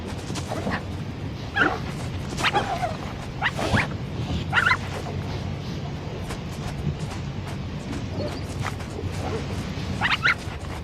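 In the video game Shelter, faint high puppy whimpers and small yips come in scattered bursts over a steady low rumbling background, fairly distant and soft, with no talking.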